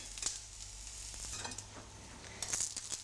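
Aubergine slices sizzle in a hot ridged grill pan, a steady close crackle and hiss with a few brief stirring or shifting sounds, no voices.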